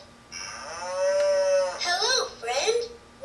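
A LeapFrog Leap Builders farm toy plays a recorded cow moo, one long electronic lowing call followed by a shorter burst of toy sound, close and clear.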